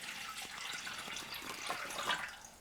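Water runs in a steady, bright, splashing stream into a Thermomix bowl set on kitchen scales, filling it continuously at close range with no talking.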